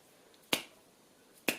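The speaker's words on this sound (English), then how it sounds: "if I snap my fingers" Two crisp finger snaps about a second apart ring out sharply and close against a quiet room background, with no talking.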